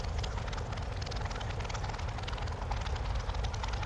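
In Microsoft Flight Simulator, the engine of a Curtiss P-40F Warhawk propeller fighter drones loud and steady, a continuous rumbling roar with a throbbing prop beat throughout.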